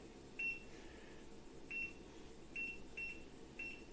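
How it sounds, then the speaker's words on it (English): Kitchen timer being set for a flan dessert in ramekins, giving about five short, quiet electronic beeps at irregular intervals over a steady low background hum. "Let's set a timer, shall we?"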